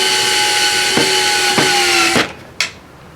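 A battery drill whirs steadily while driving screws into a wooden box hinge, its pitch dipping briefly twice under load before the motor winds down and stops, followed by a short click; loud and close, no talking.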